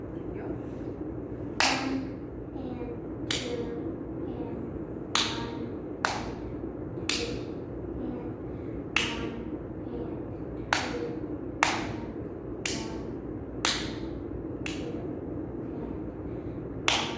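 Students clap out a rhythm in 2/4 time during a music lesson, a series of sharp, separate claps at an uneven pace over a faint room hum, with no talking during the clapping.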